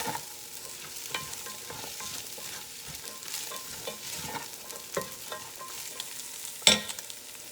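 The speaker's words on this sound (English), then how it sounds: "We'll give that a good stir and cook it until the carrots are starting to get soft." Carrots cooking in a pot for a vegan squash and sausage soup are stirred with a spoon, giving soft scraping and clacking strokes over a steady low sizzle, with one sharper knock near the end.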